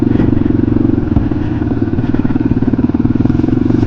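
A Yamaha XT 250 dual-sport motorcycle rides along a trail in Michigan's Upper Peninsula, its single-cylinder engine thumping loud and close in a steady rapid rhythm.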